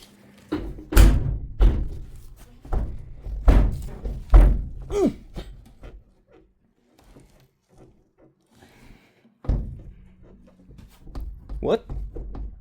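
Several heavy wooden thunks and thuds from a camper van door on a Ford Transit work van being converted in Finland, coming in separate bursts with pauses, while a person talks between and over the knocks.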